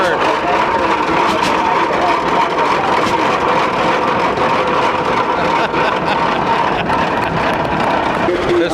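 An antique tractor engine rumbles past in a tractor parade at a pioneer village in Dakota County, Minnesota, a steady close mechanical drone with outdoor crowd noise and people talking throughout.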